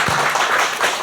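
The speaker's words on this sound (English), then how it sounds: "So we could give a quick round of applause to them as well." A brief, dense wash of audience applause at the HAIL Storm 2017 academic event, loud and continuous for about a second.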